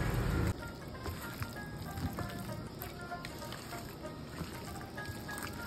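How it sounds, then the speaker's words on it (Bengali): Hot oil sizzling in a kadai (wok), a steady crackling fry at close range with a few small pops, continuing from start to end. "কড়াইতে তেল দিয়ে দিয়েছি, তেলটা গরম হয়ে এসছে"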